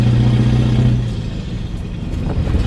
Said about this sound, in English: Just bring the revs up and you find the gear.